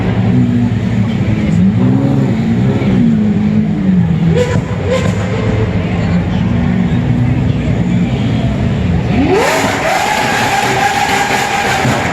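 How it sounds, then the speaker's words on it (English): Car engines rev in an unexpected noisy city setting during a Halloween holiday in Japan, rising pitch sweeps climbing over steady loud traffic rumble, with a sharper acceleration surge near the end. "I started hearing the revving of engines"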